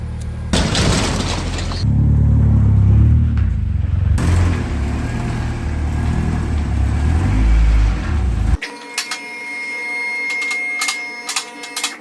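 An Integra winter race car, rusty and prepped for a wintercross event, rumbles loudly close by as it is driven into the shop, engine noise swelling and dropping before sharp clanks and rattles take over.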